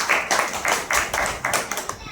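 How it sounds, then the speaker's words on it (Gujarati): Applause from an audience at a Gujarati community meeting, with a quick run of claps that comes in short bursts and sounds fairly close. "એના માટે દિલથી તાળી થવી."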